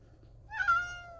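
A pet cat, a small male, gives a single clear meow about half a second in, rising then falling and close by, after a quiet room-tone start with no talking.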